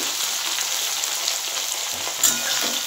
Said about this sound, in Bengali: এটা আলুটা বেশ একটু ভাজা ভাজা হয়ে এসছে